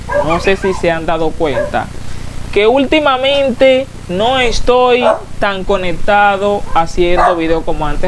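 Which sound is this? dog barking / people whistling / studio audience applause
dog barking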